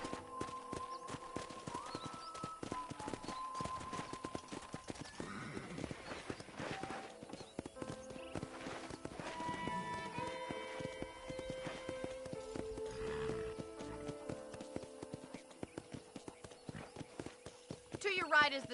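Horse ridden on a ranch in the video game Red Dead Redemption: steady clip-clop of hooves with a whinny, game music and a character voice speaking over the riding.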